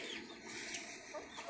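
Backyard chickens that are fed bread as a treat cluck softly at close range in a brief burst, with no talk over them.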